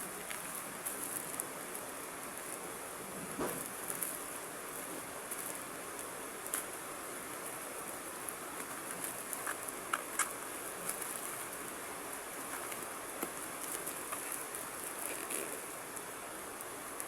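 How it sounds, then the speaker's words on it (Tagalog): Heavy rain falling steadily, a faint, even hiss with scattered drips and patters that lasts throughout, with no talking. "Lakas ng ulan idol"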